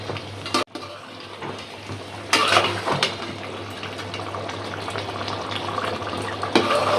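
Water poured into a pan of chicken and potato bhuna on the stove, a brief splash and gush swelling around the two-second mark, then a steady bubbling, clinking simmer close by with no talk.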